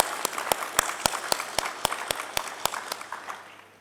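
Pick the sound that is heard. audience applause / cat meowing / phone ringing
audience applause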